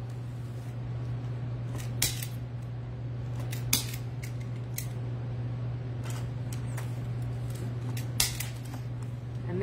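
Scissors snip a few times, crisp clicks spaced over a steady low hum while trimming pieces of a craft flower.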